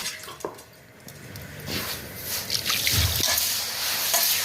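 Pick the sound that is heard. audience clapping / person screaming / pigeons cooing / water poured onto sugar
water poured onto sugar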